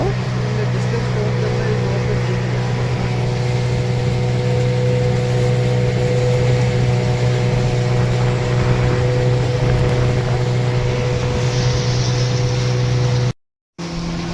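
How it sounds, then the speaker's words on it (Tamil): A speedboat cruises across a lake near Masinagudi, its motor droning loudly and steadily with a high whine and constant hull and water rush, cutting out abruptly near the end. "இப்போ நீங்கள் பார்க்குறது தான் வந்து ஸ்பீட் போட்டு"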